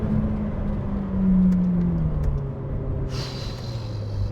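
A Ferrari F8 Tributo's engine accelerates with a steady low rumble and rising drone, close and continuous, and a brighter whine joins near the end.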